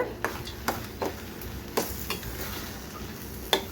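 Carrot halwa with roasted almonds and cashews is stirred in a pan over a low, steady sizzle, with five or six soft spoon scrapes at uneven intervals, close by and without speech.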